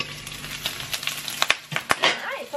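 Hot oil spitting and crackling as bitter gourd and pork sauté in a pan, irregular sharp pops and sizzles over a few seconds, close and moderately loud.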